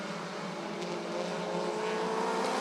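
Race cars run a short-track feature at Rockford Speedway, a loud continuous multi-engine roar with whining revs that grows slightly louder across the clip as the pack comes around.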